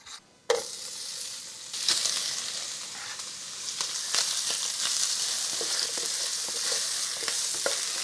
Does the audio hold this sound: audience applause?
no